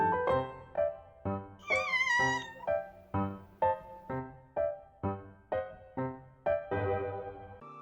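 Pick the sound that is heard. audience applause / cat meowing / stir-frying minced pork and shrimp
cat meowing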